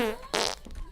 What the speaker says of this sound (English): Fart button's fine though.